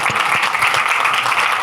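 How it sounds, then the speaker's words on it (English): An audience claps for travel-industry panelists at a conference masterclass, a short, dense burst of many hands clapping at steady volume. "We can clap."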